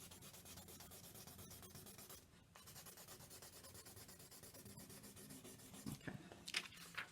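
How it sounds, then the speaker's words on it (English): A number 2 pencil rubs steadily across the back of a sheet of paper, shading it dark with continuous close, quiet scratchy strokes, a short pause partway through and a few firmer strokes near the end. "this is just number 2 pencil. I'm darkening the back of the image."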